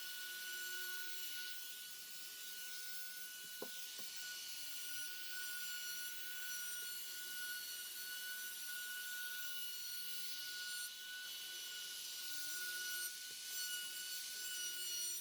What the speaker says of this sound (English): I round all those edges of all those boards with a little quarter round bit here